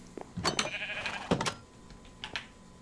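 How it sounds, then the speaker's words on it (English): A few short sheep bleats in a video game, moderately loud and close, coming in quick separate calls with quiet gaps between them. "what is this black sheep doing here?"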